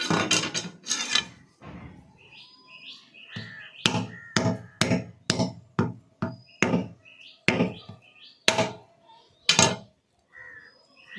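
A very small coconut is hacked open with about a dozen sharp, loud blows in an uneven rhythm, close by. Short tonal calls, like a bird cawing, sound faintly in the background.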